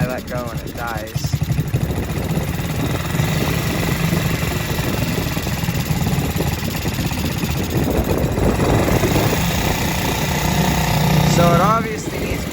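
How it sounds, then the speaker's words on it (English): A Yamaha TTR-90 dirt bike engine with a carburetor fuel problem runs loud and close with a rapid, rough, uneven putter that surges and sags throughout, while a person talks over it. "So when I put my hand over the carb, it runs good, but then I let go and it dies."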